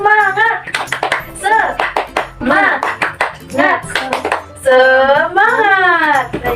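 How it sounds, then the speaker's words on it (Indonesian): In a classroom, pupils perform a rhythmic spirit clap, bursts of hand claps in set patterns mixed with loud chanted and sung voices, close and lively throughout. "Tepuk semangat!"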